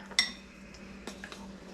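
A metal measuring spoon clinks once sharply against a spice jar while cinnamon is measured for an apple cake, followed by a couple of softer taps and scrapes in a quiet kitchen.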